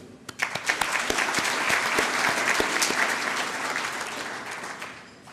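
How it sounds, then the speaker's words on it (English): A banquet audience at a union keynote event breaks into sustained applause, dense clapping building quickly with a few sharp near claps at the start, then holding steady before tapering slightly. "So for that, we applaud you."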